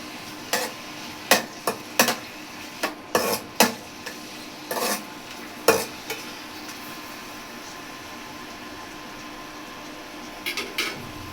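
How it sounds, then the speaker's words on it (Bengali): Onions are stirred in a frying pan with spices, a faint sizzle underneath a dozen or so sharp, irregular scrapes and knocks of the utensil against the pan, then a quiet stretch before a few final clinks. "পেঁয়াজটা লাল করে নিব, একটু হালকা বাদামি কালার করে।"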